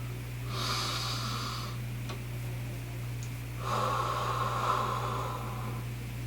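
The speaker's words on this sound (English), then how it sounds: "Then take a deep breath." Two slow, deep breaths, a long airy inhale followed later by an equally long exhale, close and soft over a steady low electrical hum.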